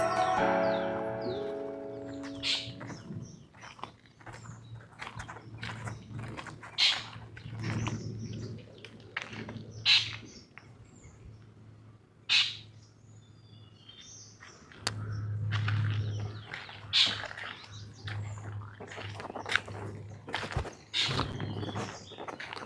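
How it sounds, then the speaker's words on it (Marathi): Several kinds of birds call around a villa in Karjat: scattered sharp chirps and tweets from different directions, with soft cooing now and then, against a quiet background. "अगदी शांतपणे ऐकले ना तर असे वेगवेगळ्या 3-4 पक्ष्यांचे आवाज आपल्याला ऐकू"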